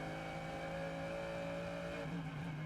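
A Mercedes GT race car engine heard from onboard during a FIA GT World Cup race in Macau, a sustained high, steady engine drone that shifts pitch near the end, with no talk.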